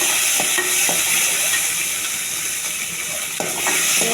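Onions and tomato for chicken curry frying in a pan, a steady bright sizzle throughout with a few soft stirring knocks and scrapes, close and continuous with no talking.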